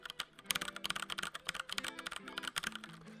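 Close-miked clacking of home row keys on a Royal Kludge RK71 70% mechanical keyboard, a quick irregular run of crisp keystrokes played alone with no talk.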